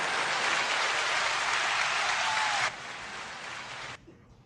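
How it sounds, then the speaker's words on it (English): Applause sound effect fired from a soundboard: a dense, steady wash of clapping at full level for nearly three seconds, then a quieter tail that cuts off abruptly, leaving faint room noise. "Hit the applause line."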